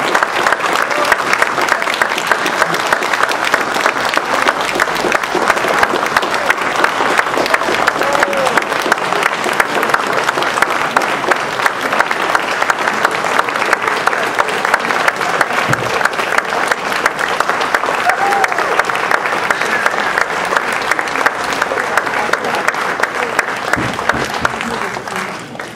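Loud, sustained applause fills an Oakmont Village Association annual meeting as the first award recipient is honored. The clapping is thick and unbroken for nearly half a minute before easing off slightly at the end.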